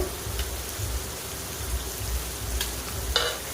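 Ginger-garlic paste frying with shrimp masala in a pan, a steady crackling sizzle with soft repeated scraping stirs underneath, moderately close and without talk.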